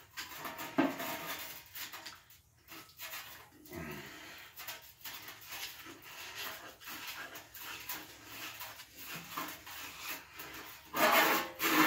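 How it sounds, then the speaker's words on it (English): Screwdriver scraping and digging packed sand out of a well water filter: continuous gritty rubbing and rasping strokes, uneven and close, with a louder scrape near the end. "Need a screwdriver to kind of dig some of the sand out."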